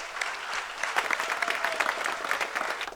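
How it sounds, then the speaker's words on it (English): Audience applause at a campus quiz final, a steady dense patter of clapping from a room full of people lasting the whole moment, fairly loud and close with no talking over it. "Give a round of applause."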